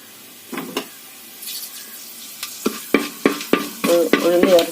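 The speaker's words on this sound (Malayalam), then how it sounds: "ഉഴുന്ന് ചേർത്ത് ചെറുതായിട്ടൊന്ന് ഇളക്കിയിട്ട്" Urad dal, a quarter teaspoon of it, is stirred in a pan over a low flame while making upma, giving soft scraping strokes and faint sizzling that build into a quicker, busier run of clinks near the end.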